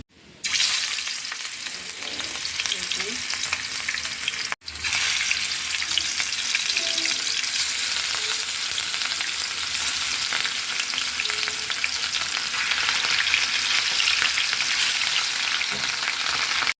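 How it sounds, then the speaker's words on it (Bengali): Salted rohu fish fries in hot oil with a loud, dense, continuous sizzle and crackle. It starts abruptly, breaks off briefly, then resumes steadily with no talking. "তেলের ভিতরে লবণ দিয়ে নিচ্ছি, না মাছ দিলে ফুটে উঠবে"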